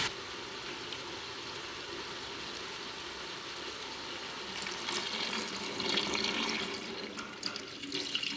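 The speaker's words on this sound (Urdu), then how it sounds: "اب ہم اس میں پانی ڈالیں گے" Water pours steadily into a pot of vegetable pulao after the vegetables are fried over a medium flame, a continuous hiss of liquid that grows fuller and louder toward the end, with no voices.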